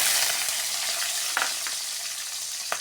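Garlic with curry leaves frying in hot oil gives a close, continuous hissing sizzle that eases slightly, broken by a couple of brief clicks.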